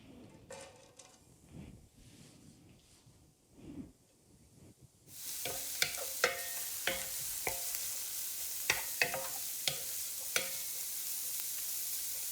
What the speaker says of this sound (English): we're gonna go ahead and add it to our warm pan with our garlic in it